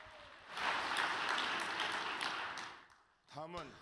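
Applause from an audience at a religious gathering after a president's message: a broad, steady wash of clapping swells in, holds for about two seconds, then fades, and a voice speaks briefly at the end.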